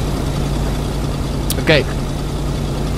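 A car engine idles steadily at a fuel station in a video game, a constant low hum running throughout, with a brief voice and a short chirpy effect breaking in near the middle.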